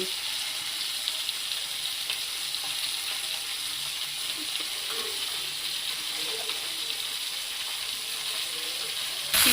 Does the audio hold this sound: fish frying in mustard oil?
yes